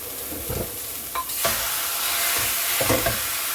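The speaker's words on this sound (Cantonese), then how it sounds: "咁先爆香咗啲洋葱先啦，咁就加啲牛肉啦。" Onions and beef frying in a pan over medium heat for a red wine beef stew, a loud constant sizzle close by, broken by stirring scrapes and clanks of the utensil, with no one speaking.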